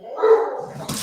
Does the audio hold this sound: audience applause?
no